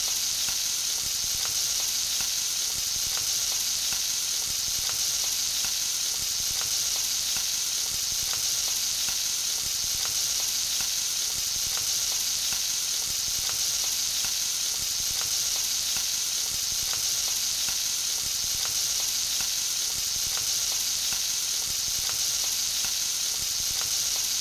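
Shrimp fry in a pan with crushed garlic and are stirred now and then, giving a loud, close, continuous hissing sizzle that holds steady for a long stretch without talk.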